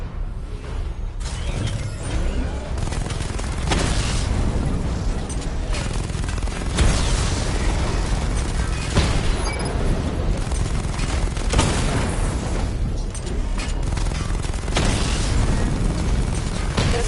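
Repeated heavy missile-barrage explosions from the Batmobile in Batman: Arkham Knight, loud booming bursts arriving in waves every few seconds over a continuous mechanical rumble, with no talking.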